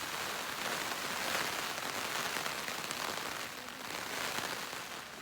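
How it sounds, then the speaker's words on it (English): Heavy rain pours onto a small tent on the first night of a trail hike, a dense, steady patter of drops drumming on the fabric close by, with no talking. "It is pouring rain right now."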